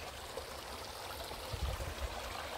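Water from a stream at Wadi Al Hail in Fujairah flows steadily, a soft continuous trickle and rush with a low, slightly louder surge near the end, no voices.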